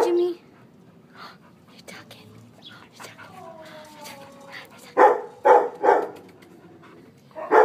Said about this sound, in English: He has this little bark.